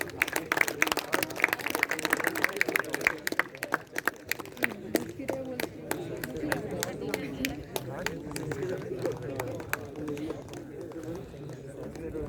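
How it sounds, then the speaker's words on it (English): At a school sports felicitation ceremony, the audience keeps up a run of brisk clapping, loudest early and continuing more sparsely under talk and crowd murmur for about twelve seconds. "तालियां बजती रहें।"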